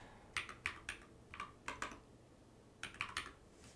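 A zip code is tapped out on a computer keyboard: quiet, close clusters of quick keystrokes in short bursts separated by brief pauses.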